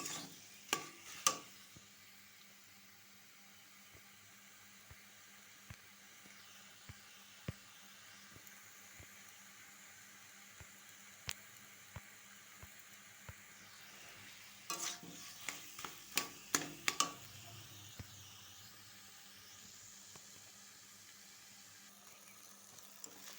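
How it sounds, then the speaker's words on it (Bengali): Papaya ghonto with coconut is sautéed and stirred in a pan, a faint steady sizzle running underneath with scattered spoon scrapes and knocks, including a cluster of sharper clatters partway through. "এবার সব শুদ্ধ একসাথে কষাতে থাকবো"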